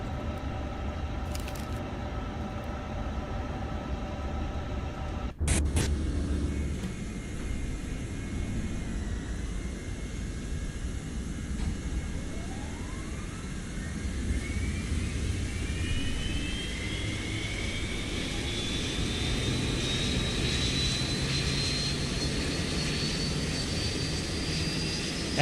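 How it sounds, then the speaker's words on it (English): The APU of an iniBuilds Airbus A350 in Microsoft Flight Simulator 2024 spools up inside the cockpit, a rising whine climbing steadily over a constant low engine rumble, with a click early on and no talking. "So let's start the APU."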